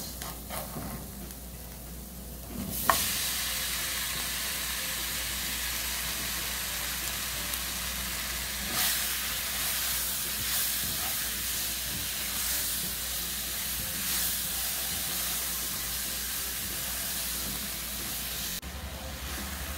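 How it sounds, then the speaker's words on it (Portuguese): Bananas frying with bacon in a pan: after a quiet start, a loud burst of sizzling erupts and then settles into a steady, close hissing fry that continues for the rest of the clip. "agora eu vou deixar a minha banana dar uma fritadinha aqui"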